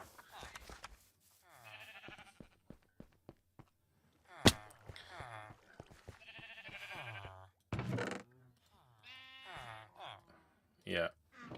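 Sheep bleat from a farm pen in the Minecraft video game, short blocky bleats scattered under steady talk from players on a livestream, with a few sharp clicks and taps.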